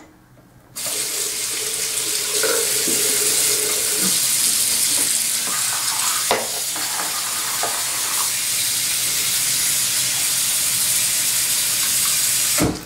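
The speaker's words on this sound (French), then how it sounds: "Donc je vais mettre un fond d'eau." Tap water runs steadily into a basin being filled to clean a hairbrush, a loud continuous splashing gush that starts abruptly after a quiet moment and continues without talk.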